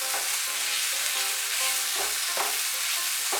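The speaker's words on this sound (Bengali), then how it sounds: "আলুর খোসাটা ভালো করে ভেজে নেব যতক্ষণ না পর্যন্ত জলটা শুকিয়ে যাচ্ছে।" Potato peels with a pinch of sugar frying in a pan, a steady close sizzle with occasional stirring scrapes as the moisture cooks off.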